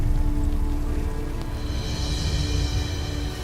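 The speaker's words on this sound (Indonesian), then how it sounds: "Malam-malam begini hujan." Steady rain falls at night, a dense continuous patter of drops on surfaces that holds at a constant level with no voices.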